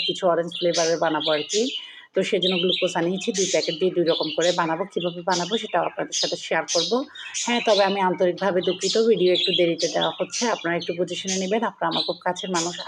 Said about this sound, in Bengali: অনেক কিচিরমিচির আওয়াজ শুনছেন। আমার পাখিগুলো আওয়াজ করছে।